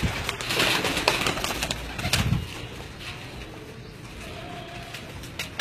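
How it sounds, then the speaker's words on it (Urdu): A kept pigeon gives a short, low cooing call at fairly close range amid light rustling and background noise, then things settle into a quieter hum. "بہت میرا فیورٹ کبوتر ہے"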